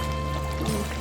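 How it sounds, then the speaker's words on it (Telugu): Water is poured into a pan of chicken curry, a brief steady splashing pour heard close up. "ఇప్పుడు నీళ్ళు వాటర్ పోయేదాన్ని. వాటర్ పోయాలా?"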